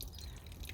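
Water drips and trickles faintly while potted plants are watered from underneath, a soft, close, steady patter with no voices.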